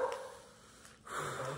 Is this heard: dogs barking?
yes